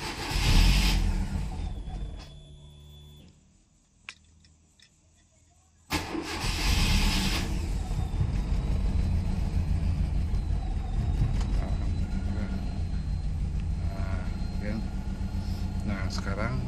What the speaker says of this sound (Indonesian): Sekarang kita coba untuk starter apakah jalan atau ya